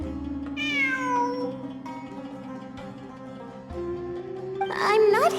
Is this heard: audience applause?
no